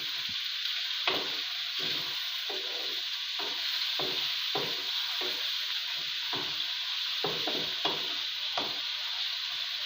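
Chicken fries in a pan with a constant bright sizzling hiss, broken by regular scraping and stirring knocks from a utensil, close up and without speech.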